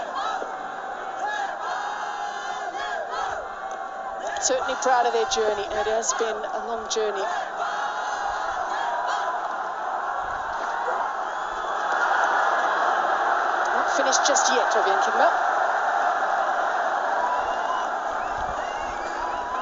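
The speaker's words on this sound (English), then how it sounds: "This crowd is just pushing this Nepal innings along. It's like an extra fielder." A large stadium crowd roars continuously through a Nepal versus Netherlands T20 World Cup cricket match, the din swelling louder partway through while a commentator talks over it.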